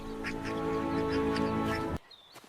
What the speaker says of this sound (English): That duck is very relaxed.